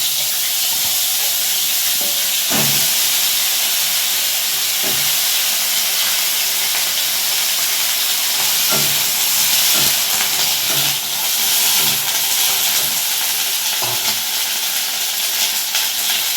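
Steamed cauliflower goes into hot oil seasoned with nigella seeds while cooking a Bengali koi fish dish, giving a steady, loud broadband sizzle and hiss throughout with a few soft clinks, and no talking.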